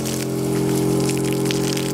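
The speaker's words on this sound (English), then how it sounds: "the pump comes back on" Electric pump moving sugar syrup through a hose into a bee feeder, a close, steady hum with a constant tonal drone and splashing, gushing liquid over it, loud and unbroken throughout.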